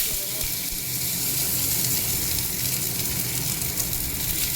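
Sliced onions fry in hot oil with dried red chillies and cumin seeds for onion dal, giving a loud, steady, close sizzle that holds without a break.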